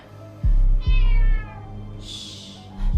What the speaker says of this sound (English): God, I hate that cat.